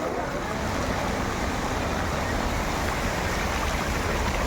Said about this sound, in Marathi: पाऊस काही कमी होत नाही